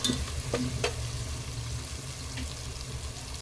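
Onions and green chilies frying in a pan with salt for chicken biryani, a steady close sizzle with a few scraping stirs near the start and no talking.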